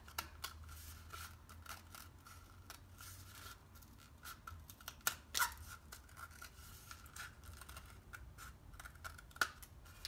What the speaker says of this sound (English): what we are going to do now is trim it so our cone will be flat.